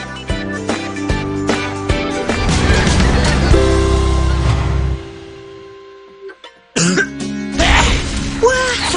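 Repeated harsh coughing in an Indonesian television advertisement for a cold and cough remedy, loud and close, a few hacking bursts with music and a voice following after a short break.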